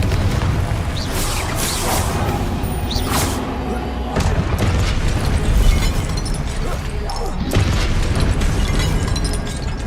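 Confringo fire-blast spell in Hogwarts Legacy, loud bursting booms and crackling impacts amid continuous combat noise, repeated several times over ten seconds.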